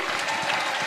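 Crowd at a political rally in Nyando, Kisumu County, Kenya, clapping in a dense, steady wash of applause that fills the whole moment, loud and sustained without a break.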